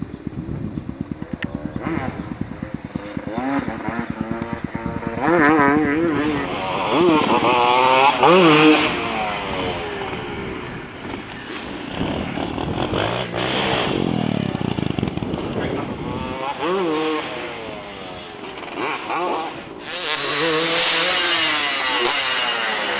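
A dirt bike revs and rides around a dirt track pit, the engine rising and falling in pitch through repeated accelerations, loud and close at first and then varying in distance, with brief voices underneath.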